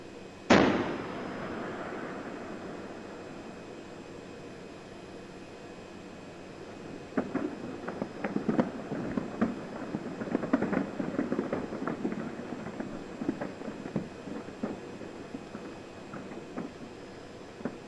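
A Popocatépetl volcano eruption blast opens with one sharp, loud boom that fades into a long low rumble, followed by a stretch of irregular crackling and popping bursts.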